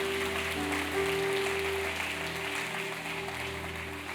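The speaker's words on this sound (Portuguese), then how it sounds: "Aplauda o Senhor." Church congregation applauding the Lord during a Portuguese-language service, a steady wash of clapping that fills the room at moderate level, with sustained tones from an organ or keyboard holding underneath.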